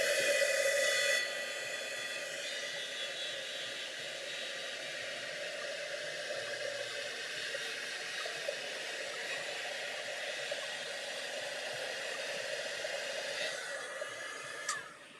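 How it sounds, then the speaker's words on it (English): A handheld embossing heat gun blows steadily over embossing powder on a craft card, a continuous close, airy whoosh that holds at an even level for about fifteen seconds, with a brief louder burst at the very start. "take your embossing gun, and I happen to have mine here, and we are going to emboss this"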